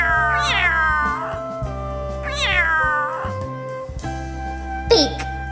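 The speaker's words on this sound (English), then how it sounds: "The cat says," In an animated preschool farm-animal lesson, a cartoon cat gives three clear, close meows in a row, each a rising-then-falling cry separated by short pauses.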